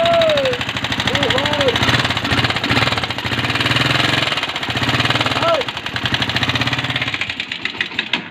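A Tmx 125 Alpha motorcycle engine runs with a loud, rapid mechanical ticking that rattles steadily throughout, close to the mic, with a few brief chirps on top.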